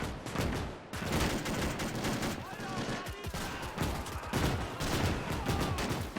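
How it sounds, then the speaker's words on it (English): Dense gunfire in a WW2 video game mod, rapid volleys of rifle and machine-gun shots cracking one after another, loud and close, with brief pauses between bursts. "Or actually gunfire."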